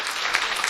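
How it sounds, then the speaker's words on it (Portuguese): A short burst of audience applause for a guest at a school event, dense clapping at a steady level with no talk over it. "Uma salva de palmas para a nossa convidada."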